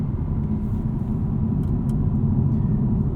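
Audi RS5 Competition coupe with a 2.9 liter V6, 2023 model, driving with a loud, steady low engine rumble and road drone heard from inside the car, with no talk.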